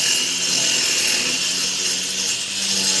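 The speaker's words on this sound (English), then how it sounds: "So here I was cutting the block" An angle grinder cuts through a retaining wall block for a raised patio, giving a steady, loud, continuous abrasive grind that holds even for the whole stretch with no talking.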